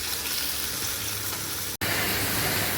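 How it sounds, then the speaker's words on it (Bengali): Banana pieces frying with a little salt and turmeric in hot oil, a steady dense sizzle close by, broken once by a very brief cut to silence before the crackle resumes. "কলাগুলো এইভাবেই অল্প লবণ দিয়ে আর অল্প হলুদ দিয়ে ভেজে তুলব লাল লাল করে।"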